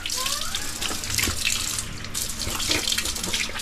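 Tap water runs steadily into a sink for the whole stretch, a continuous broadband rush that stays loud and close without pause.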